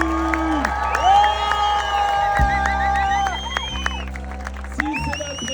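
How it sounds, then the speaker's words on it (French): A crowd cheers and whoops at an outdoor religious march in Marseille, with loud sustained music tones running underneath and a few excited shouts rising above the mass of voices. "Est-ce qu'on peut applaudir Jésus?"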